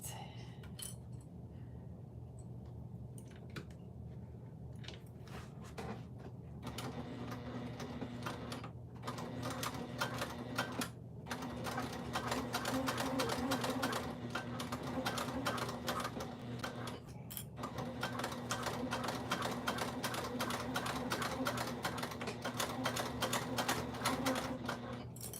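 Sewing machine stitching a wristlet with a waterproof canvas interior, a steady mechanical whirring hum running continuously for long stretches and broken by a few brief stops, with faint voices underneath.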